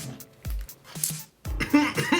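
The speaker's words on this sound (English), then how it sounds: "I'm just coughing all over it" Several harsh, abrupt coughs close to the microphone, spaced unevenly with a brief pause between bursts.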